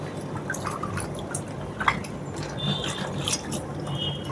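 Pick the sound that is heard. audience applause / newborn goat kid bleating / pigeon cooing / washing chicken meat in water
washing chicken meat in water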